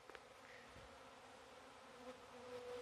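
A honey bee swarm buzzing as it is moved toward a nuc box, a faint steady hum with a few brief louder passes from bees flying near.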